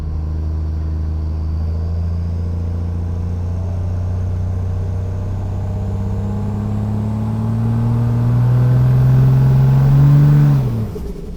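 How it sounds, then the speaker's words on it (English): A drag racing truck engine running in cold weather, a steady deep idle that builds into a louder rev, held briefly, then cut off sharply near the end. "The truck's still running"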